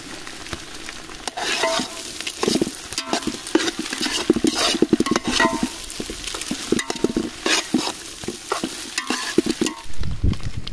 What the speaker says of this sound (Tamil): முட்டை அவிச்சு வச்சுருக்க முட்டையை கட் பண்ணி வச்சுருக்கோம், அதை இப்போ உள்ளே போட்டுக்கலாம்